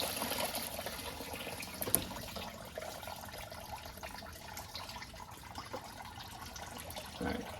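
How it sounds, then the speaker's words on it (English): Coolant draining out of a Mercedes C230 radiator, a faint steady trickle and splash of liquid running continuously in the background of a quiet garage. "radiator is draining"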